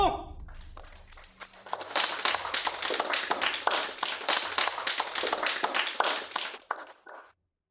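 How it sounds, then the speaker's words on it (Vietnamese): Warm round of applause from a gathered audience at a celebration of a company winning a tender, steady dense clapping lasting several seconds before stopping abruptly, with brief talk at the start. "chúng ta dành một tràng pháo tay nhiệt liệt chúc mừng công ty Lân Lý trúng thầu"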